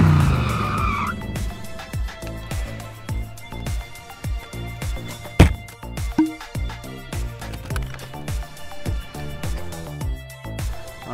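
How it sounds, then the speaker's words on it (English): A small car rolls over an Envoy Pro SX SSD, producing a loud, close series of rhythmic clattering ticks and scrapes, with one sharp louder knock midway. "I'm gonna take my little car here and I'm gonna drive over this Envoy Pro."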